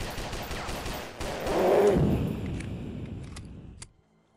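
Gunfire from a gun in the horror video game Slendrina, a loud burst of shots with a heavy mid-range body lasting a couple of seconds, then trailing off into sharp clicks before quiet.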